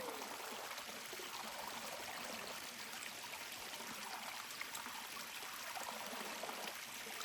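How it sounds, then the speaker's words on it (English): A rain-swollen creek beside an Appalachian Trail path rushes in a steady, broadband wash of flowing water. It is faint and continuous with no clear breaks and no voices. "Nice creek."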